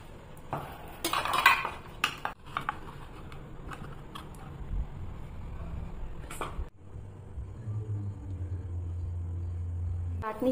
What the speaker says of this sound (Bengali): আমি একটা একটা করে ইডলিগুলোকে সাজা থেকে বের করে নেব।